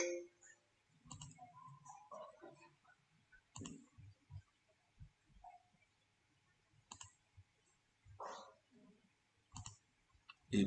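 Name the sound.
computer mouse clicking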